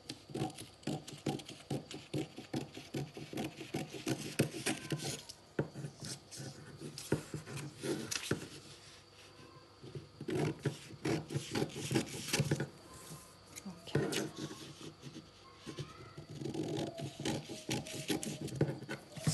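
Scissors cutting fabric for a fitted face mask, a steady run of soft snipping, rubbing and patting handling noises close by, with short pauses, and no talking.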